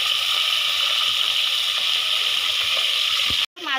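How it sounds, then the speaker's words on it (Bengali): Fish frying in a pan gives a steady, close sizzling hiss that runs without a break for about three and a half seconds, then cuts off abruptly. "তো মাছগুলিকে ভাজতে দিয়ে দিচ্ছি"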